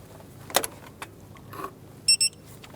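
A torque wrench tightens the accessory belt tensioner bolt on a 2011-2021 Jeep Grand Cherokee to 37 foot-pounds, giving a couple of faint ratchet clicks and a sharp double click as the set torque is reached, with quiet tool handling between.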